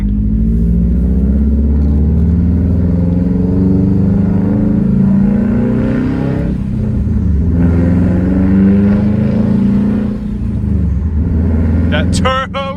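A Subaru WRX STI with a catless downpipe drones loudly with a deep engine rumble that rises and falls as it revs, turbo whistle and spool on top, with bursty popping near the end; someone talks over it.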